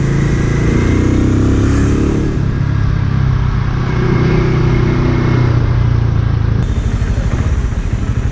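A Benelli Imperiale 400 motorcycle engine on a test ride: a loud, continuous low thumping drone with mild rises in revs and wind rush, heard close up throughout, no talking.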